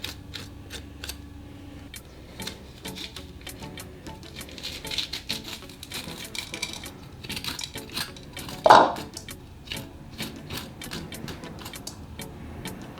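A spoon scrapes seeds out of halved jalapeno peppers in a bowl, giving quiet irregular clicks and scratches of metal on pepper and dish, with one sharper knock near the end.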